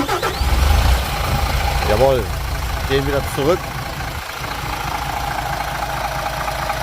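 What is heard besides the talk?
MAN A21 bus diesel engine starting and idling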